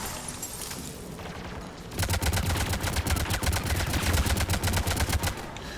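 Rapid automatic gunfire in the video game Mass Effect 3, loud sustained bursts of closely spaced shots that start abruptly and run for several seconds before stopping.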